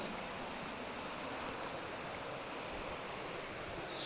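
Strong brown river current rushing loudly near a waterfall, a constant broadband roar of churning water filling the whole stretch without pause or speech.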